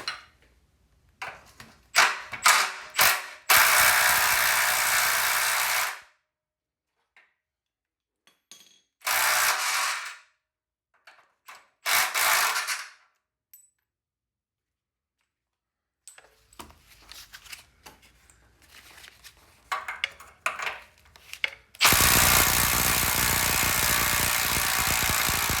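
Bolts are worked loose from a Triumph Spitfire frame during teardown. Loud, close bursts of ratcheting and mechanical grinding are separated by stretches of near silence, and a long continuous run closes the sequence.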